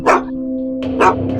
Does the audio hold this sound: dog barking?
yes